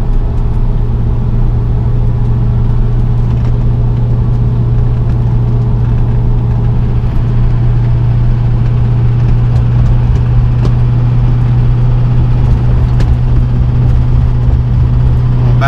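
An LBZ Duramax diesel pickup towing a dozer downhill, engine braking to hold the load back, makes a steady, loud, low droning rumble with a constant hum throughout.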